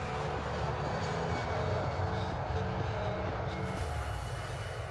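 Kenya Airways Boeing 787 Dreamliner engines spooling up on the runway for takeoff, a steady loud roar with deep low rumble and broad hiss, continuous throughout.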